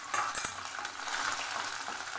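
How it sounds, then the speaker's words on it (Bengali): Crushed garlic and a broken dried red chilli frying in mustard oil in a wok, a soft, quiet sizzle with a few light stirring scrapes and taps near the start. "রসুন লাল করে ভেজে নেব।"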